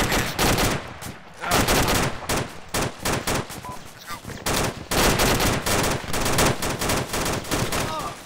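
Rapid bursts of automatic gunfire and single shots crack through an Arma 2 firefight, loud and close. Volleys repeat in uneven clusters over about eight seconds, with faint background voices.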